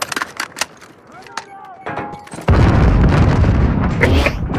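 A stun grenade bursts in a tactical shooter game with a loud, sustained blast that fills the second half, after sparse clicks, tones and short sounds.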